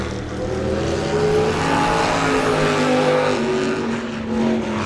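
A race car takes the green at Lee USA Speedway to begin a single-car qualifying lap, its engine roaring loud and steady with rising revs throughout, no voices.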